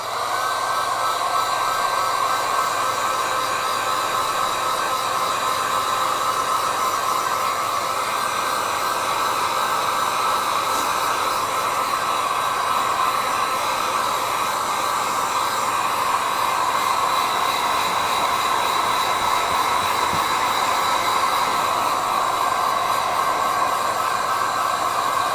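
A hair dryer blows steadily and loudly over a loose watercolor Christmas snowy scene, a continuous even whoosh with no talking.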